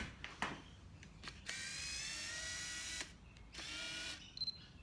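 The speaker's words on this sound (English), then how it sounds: "you can hear the noise that the camera makes when I focus it" A Minolta film camera's autofocus motor makes a steady, high-pitched mechanical whirring in two long bursts separated by a short pause, with a few faint clicks at the start and end.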